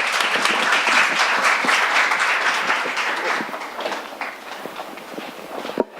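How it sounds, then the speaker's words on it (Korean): A conference audience claps loudly to welcome a director on stage for closing remarks, steady dense applause that fades toward the end. "장선문 디렉터를 큰 박수로 맞이해 주시기 바랍니다"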